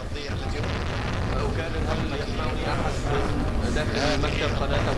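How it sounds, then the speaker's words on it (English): A large explosion from bombing in the Iraq war sounds as a dense, sustained roar of rumbling blast noise across the whole clip, loud and rough, with a news broadcaster's voice mixed in. "There's a huge explosion on that other side of the bridge, near that building."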